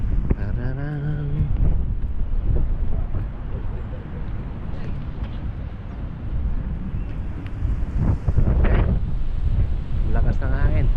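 Strong spring wind buffets an outdoor microphone with a continuous low roar and gusty rumble that swells and eases throughout, while a person speaks briefly near the start.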